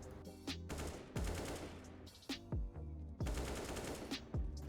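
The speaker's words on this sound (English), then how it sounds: "S-Attack tries to shoot B-Stick with an AWP, and B-Stick on the other hand tries with an AK" In the CS:GO video game, AWP and AK rifles fire at a bulletproof truck window, giving sharp, close shots in rapid bursts with ringing impacts and short pauses between volleys.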